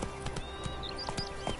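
Roach the horse galloping in The Witcher 3: Wild Hunt, a faint, quick run of hoofbeats clopping in an uneven rhythm, with a soft tonal ambience underneath.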